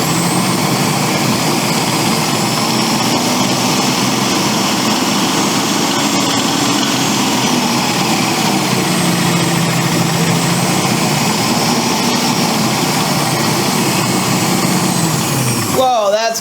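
A Magiccos 14-cup food processor runs steadily at a high speed, a loud continuous motor whine and churning drone that holds for about sixteen seconds before cutting off abruptly at the end.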